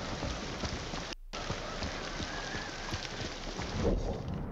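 Steady heavy rain pours in a stormy outdoor scene of the video game Ghost of Tsushima, a dense continuous hiss broken by a brief cut, with a faint low rumble toward the end.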